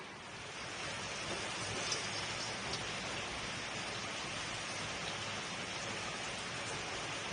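Steady morning monsoon rain in Konkan falls as an even, unbroken hiss of moderate loudness, with no talking.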